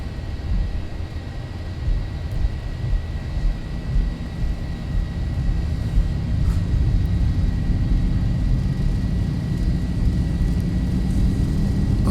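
Boeing 737 jet engines spool up to takeoff thrust in the X-Plane 11 simulator, a loud, continuous low roar and rumble that holds steady and swells slightly with no break.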